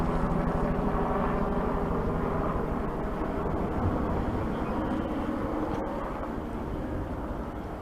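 A steady low mechanical drone from a helicopter overhead, continuous and fairly loud throughout, with no voices.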